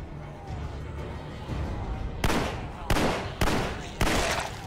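Four sharp gunshots ring out in The Walking Dead Survival Instinct video game, spaced about half a second to a second apart, each a loud burst that decays quickly over a low rumbling game ambience.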